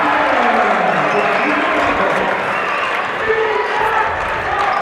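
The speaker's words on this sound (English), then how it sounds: "I got the Altoona crowd fired up" At a high school boys basketball game, the home crowd in Altoona roars with loud, sustained cheering and applause that fills the gym without letup for several seconds.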